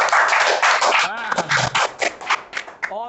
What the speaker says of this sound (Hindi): ताली बजा दो, नालायक।